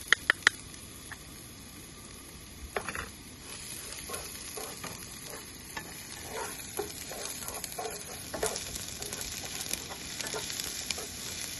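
Yellow onion and ginger sweating in a pan for congee, a soft steady sizzle with clicks and scrapes of stirring, fairly quiet and without talk.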